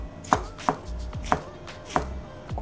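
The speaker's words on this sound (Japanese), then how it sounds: "人参はみじん切りにします。" A kitchen knife chops carrots finely on a cutting board in five distinct, evenly spaced knocks, close and crisp, with quiet gaps between strokes.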